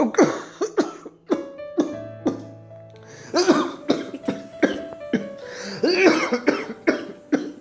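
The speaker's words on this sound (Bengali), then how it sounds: "তুমি কাশছো কেন?" A close, loud series of harsh coughs in uneven bursts from someone with a cold, mixed with some throat clearing, and no talking.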